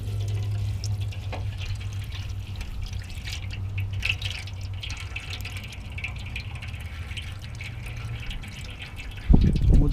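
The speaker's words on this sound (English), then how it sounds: "We'll just let that drain for a little bit." Manual transmission fluid draining from a Jeep Wrangler, a steady close trickle and patter of liquid with a low hum beneath it, ending in a louder thud near the end, no talking.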